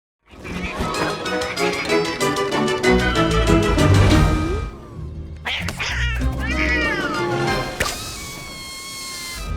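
A cat meows loudly and repeatedly over dense music, then lets out a few drawn-out, wavering yowls near the end.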